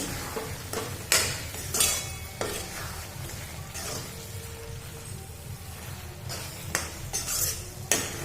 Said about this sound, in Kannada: ಇವಾಗ ಎರಡನ್ನೂ ಹಾಕಿಬಿಟ್ಟು ಮಿಕ್ಸ್ ಮಾಡ್ಕೊಳ್ಳಿ ಚೆನ್ನಾಗಿ